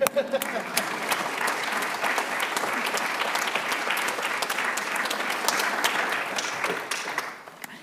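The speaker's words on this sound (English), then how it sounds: "thanking them and spurring them forward with a round of applause" Sustained audience applause from a crowd at a foundation launch event, a steady dense patter of many hands clapping for the whole stretch before tapering slightly at the end.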